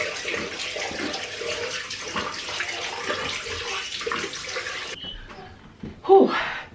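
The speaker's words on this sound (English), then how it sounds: "Cold water splashed all over my face." Cold water splashed onto a face at a bathroom sink during a morning skincare routine: steady close splashing and running water for about five seconds, then a brief quiet and a short exhaled breath.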